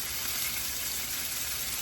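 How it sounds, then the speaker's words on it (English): Chicken sizzles in a hot pan, a dense, even hiss that holds steady for the whole short moment, close by and alone. "If you hear that sizzle, that's always a good thing."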